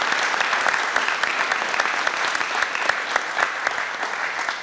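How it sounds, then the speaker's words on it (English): Crowd applause for Governor Pritzker and the General Assembly at an Incobrasa expansion event in Gilman, Illinois: a thick, even wash of many hands clapping, sustained and fairly loud throughout. "A big round of applause for Governor Pritzker and our friends in the General Assembly"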